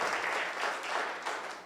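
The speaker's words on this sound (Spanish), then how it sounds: "vamos a darle un aplauso a Dios" Applause from a church congregation after a call to applaud God, steady dense clapping at moderate distance that fills the short moment alone without speech.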